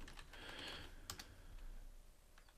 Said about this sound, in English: We'll type in our password